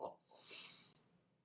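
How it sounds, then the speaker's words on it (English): A single short nasal sniff, close and soft, with a breathy airy rush that fades quickly into quiet. "I did a sniff there."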